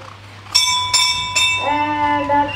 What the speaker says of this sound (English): that's the bell, bringing us to the end of chapter 6